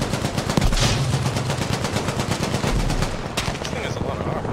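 Rapid machine-gun fire in the video game Battlefield V during a Breakthrough match on Hamada, dense repeated bursts and booming shots close up, with a voice talking over the combat.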